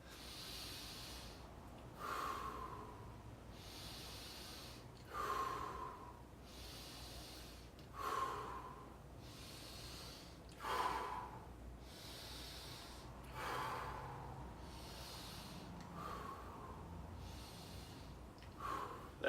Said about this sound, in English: just a basic breathing exercise